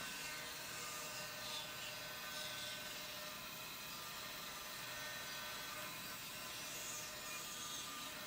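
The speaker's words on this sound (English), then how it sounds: "now I'm going to go in and cut out the shape" A saw cuts the outline of a glued-up wooden guitar body, giving a steady, continuous high-pitched whine and rasp that stays level throughout, with no talking.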